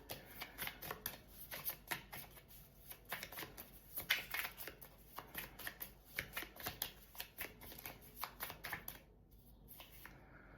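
Tarot deck being shuffled by hand close up, a quick irregular run of soft riffling card flicks and slaps that stops near the end, fairly quiet, with no talking.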